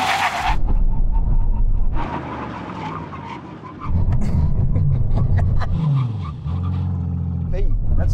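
An Aston Martin brakes hard in a brake test, engine and tyre roar loud and close with a surge near the middle, then falling engine tones as it slows; a voice talks over it.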